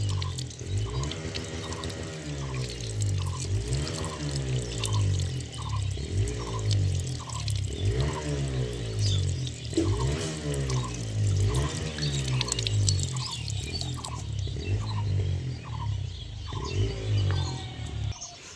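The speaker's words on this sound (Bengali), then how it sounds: "এগুলোকে এবার ভালো করে ধুয়ে নিতে হবে একটু পরিষ্কার করে ভালো ফ্রেশ জল দিয়ে আগে একটু ধুয়ে নিতে হবে" Water lily bulbs are washed by hand in fresh water, giving repeated rhythmic splashing and dripping in a steady pattern, close and moderately loud, with no talking.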